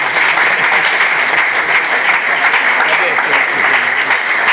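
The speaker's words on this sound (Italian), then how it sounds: "Facciamo un applauso proprio a mamma." Audience applause at a school gathering, a dense and loud continuous wash of clapping with a muffled, band-limited quality, steady for about four seconds.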